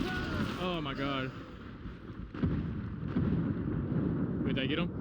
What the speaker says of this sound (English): I feel like the explosion got him.